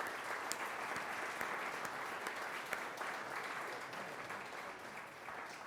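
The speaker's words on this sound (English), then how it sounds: "Give them a big round of applause." A benefit event audience applauds steadily, a dense, even wash of clapping that is fairly faint and distant and continues throughout without talk.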